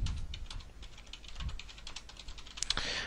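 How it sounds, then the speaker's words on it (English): Rapid clicking of keys on a computer keyboard, a quick, close, irregular patter of taps with a brief louder burst near the end. "So I just highlight my text and begin typing on my keyboard."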